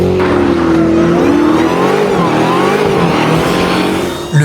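A Ford Mustang engine accelerates in sport mode, a loud close roar with rising and shifting pitch sustained throughout, ending with a brief bump.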